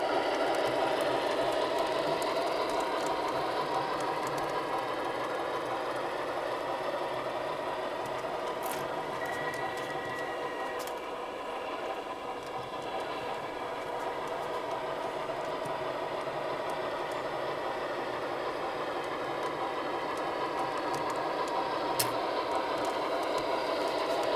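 A 3-rail O-scale model train runs steadily on Gargraves track, its wheels whirring and clicking in a continuous mechanical hum with occasional sharp clicks.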